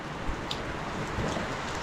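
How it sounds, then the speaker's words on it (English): Heavy, steady rain pours down outdoors beside a swollen creek on a cattle farm, a dense continuous patter with faint scattered drops standing out, no voices. "Still raining a bunch."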